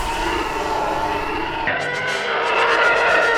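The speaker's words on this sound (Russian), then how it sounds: "Это звук тайфайтеров, и это тоже целая история." A howling, screaming Star Wars TIE fighter engine effect that rises and warbles, loud and continuous throughout.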